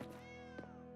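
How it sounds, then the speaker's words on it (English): A cat in Pathfinder: Kingmaker gives a brief, faint meow, a single short call over a dense game soundscape. "I hear you, cat."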